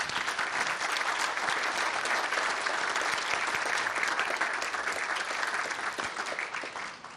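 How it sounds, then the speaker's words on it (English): Sustained audience applause at a writers award ceremony honoring Joseph Bruchac, a steady dense wash of clapping from a large crowd that holds for several seconds before tapering slightly at the end. "Let's give Mr. Bruchac one more round of applause."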